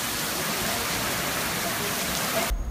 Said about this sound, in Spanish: Una fuerte lluvia acompañada de ráfagas de vientos sorprendió la tarde de este jueves a los habitantes de Managua.